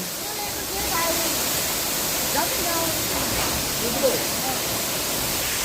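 Ice-cold waterfall water splashes down steadily on a traveller en route from Bhalukpong to Bomdila, a broad close rushing wash that runs throughout, with people talking over it.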